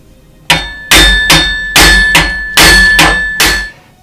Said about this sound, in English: I'm going to simply beat on it with a hammer and see if I can't remove it